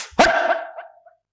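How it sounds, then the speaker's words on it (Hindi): A woman gives one loud, drawn-out burp during a healing session, sharp at the start and then fading over about a second, close and alone. "डकार चालू"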